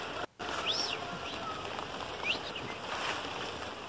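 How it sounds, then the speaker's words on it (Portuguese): Heavy rain falls steadily on a rainy Sunday, a dense even hiss of drops with brief higher chirps, likely birds, over it and no talking. "tá maior chuva hoje, ó."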